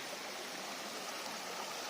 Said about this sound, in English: It's a lovely stream this.